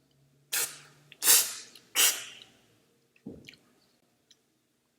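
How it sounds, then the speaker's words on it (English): An olive oil sommelier slurping oil during a sensory tasting, three sharp, loud airy sucking slurps in quick succession, followed by a softer throaty gulp and faint breaths. "I'm trying to use my teeth and tongue to spray the oil to the back of my neck, my throat"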